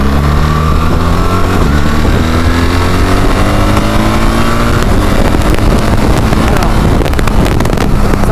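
A BMW car with an automated manual gearbox accelerates onto an expressway, its engine droning loud and close under heavy wind and road noise, with pitch rising through the gears.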